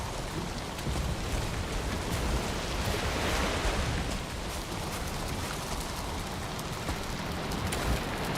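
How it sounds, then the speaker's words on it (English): Steady rain in the video game Valheim falls as a continuous, even hiss of drops on the surroundings, unbroken and fairly loud for the whole stretch, with no voices. "Raining again."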